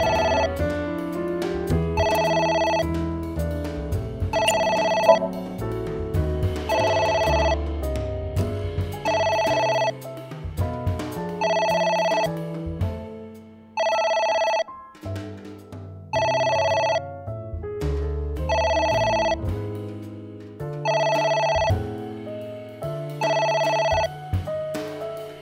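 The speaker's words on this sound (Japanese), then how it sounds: "また電話だ。" Telephone ringing in the AI: The Somnium Files game, sounding in repeated bursts of bright bell tones at a steady cadence over a layered musical backdrop, clear and prominent throughout.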